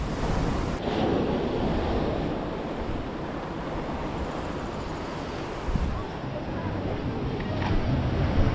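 Ocean swell breaking on a beach on Réunion, a constant loud roar of surf mixed with wind buffeting the microphone, no break in the wash throughout.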